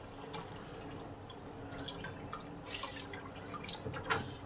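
Water poured into a cooking pot of bottle gourd greens, potatoes, stems and lentils, a faint splashing and dripping trickle running throughout the clip.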